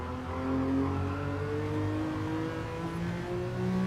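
A race car in Gran Turismo 7 accelerating on the throttle, a steady close engine whine climbing gradually in pitch over a few seconds.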